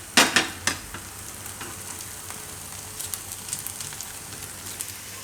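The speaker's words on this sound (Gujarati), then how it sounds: "થોડુંક તેલ સાઈડમાં નાખી દેવાનું અને પાકવા દે આપણે મીડિયમ ગેસ રાખીને" Maggi pudla frying in oil on a pan over a medium gas flame, a soft steady sizzle with a few louder spatters at the start, then a quieter crackle running throughout.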